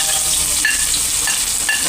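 Garlic sizzles and fries steadily in a pan as the first step of ginataang gulay with yellowfin tuna, with a constant crackle and a few light stirring scrapes, close and fairly loud, with no talking.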